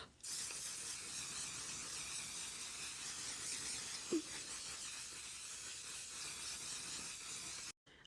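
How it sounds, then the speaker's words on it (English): One Size setting spray misted heavily onto a face, neck and chest, a long continuous airy hiss lasting about seven seconds close to the mic, with a brief faint click midway and silence at the end. "I'm going to go in with the One Size setting spray."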